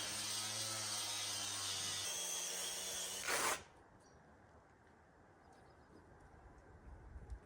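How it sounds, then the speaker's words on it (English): A power sander or grinder working on log walls of a log home, a loud continuous whirring drone with a tonal hum for over three seconds, then cutting off to quiet background. "now we'll get back to our afternoon sanding session"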